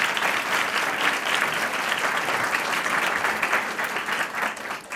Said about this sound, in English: Would you give them a round of applause and appreciation?